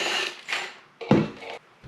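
Drill bit boring through the foam liner of a PPG paraglider helmet, giving close, uneven grinding and whirring in short bursts with brief pauses between them.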